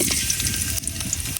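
Garlic hitting hot oil in a wok for village-style fried rice, a brief, close, loud crackling sizzle with no pause.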